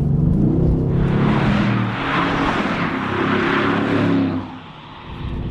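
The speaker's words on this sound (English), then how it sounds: "Anyone who thought a 4-liter V8 was going to sound bad in the new line of AMGs" A 2016 Mercedes-AMG GT S 4-liter V8 engine revs up loudly with a deep rumble, holds the growl for several seconds, then drops back to a lower idle.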